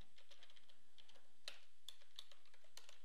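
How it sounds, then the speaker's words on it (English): Light, quiet keystrokes tapping at an irregular pace as an item name is typed in, close and alone with no talk. "Now all I have to do is type in,"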